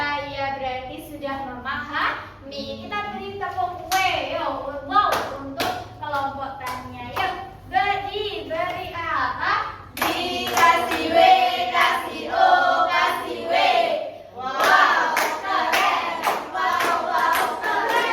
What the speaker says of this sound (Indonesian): Kita beri tepuk W, yo, wow, untuk kelompok